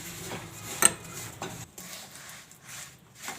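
A spoon stirs sesame seeds into hot chikki syrup in a pan on a switched-off gas stove, giving soft scraping and light clinks, with one sharper metallic tap near the start, all close and fairly quiet.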